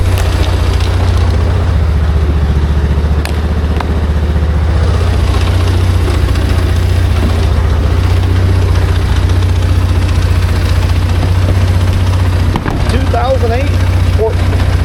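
A loud, steady Sport XP utility vehicle engine idles close by with a deep, throbbing rumble that continues unbroken; a brief voice is heard near the end.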